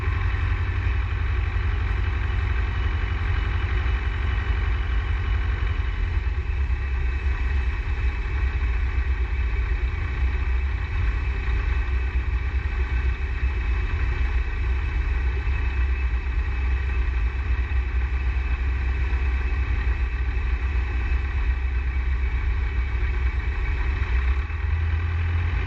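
Light aircraft engine throttled back to idle in flight on approach to Fenland airfield, a steady, even drone heard from inside the cockpit, constant and unbroken throughout.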